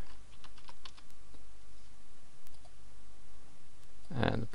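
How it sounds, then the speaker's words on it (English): Quick burst of computer keyboard typing near the end, entering a username on a login page, with a few faint mouse clicks earlier against quiet room noise. "So we'll click on login, type in my username"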